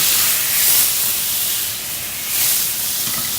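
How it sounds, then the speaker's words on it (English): White wine hits a hot pan after browning pork, releasing a loud, close rush of hissing steam and sizzle that rises and falls over a few seconds. "what I'm going to do here first is I'm going to deglaze the pan."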